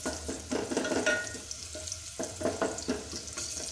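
Onions frying in a pan over an open cooking fire, a soft continuous sizzle with some stirring scrapes and faint watery sounds, fairly quiet and close.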